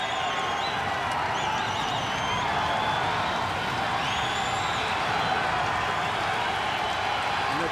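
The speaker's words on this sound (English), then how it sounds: "The crowd is on its feet and cheering" A boxing arena crowd on its feet cheering during a fight, a loud, dense and steady roar of voices and whoops that holds at one level throughout.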